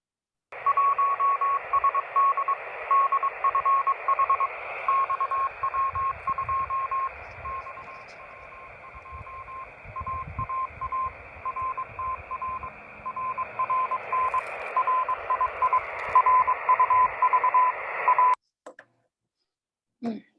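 Amateur radio satellite downlink received during a pass: a steady tone over a band of radio hiss whose pitch slowly drifts, running continuously for about eighteen seconds before cutting off abruptly.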